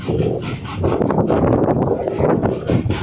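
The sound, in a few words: strong wind blowing during storm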